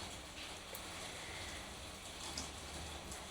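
Soft, steady rainfall patters on a surface throughout, a diffuse hiss with scattered drops and no voices.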